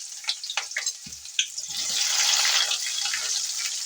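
Curry leaves and onions hiss and sizzle in hot oil in a pan, a steady crackling that builds partway through, with a few soft clinks at the start.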